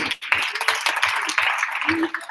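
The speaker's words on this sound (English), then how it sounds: "Round of applause." A round of applause from an event audience, brisk clapping with distinct individual claps close by, loud and continuous with a brief voice-like tone mixed in.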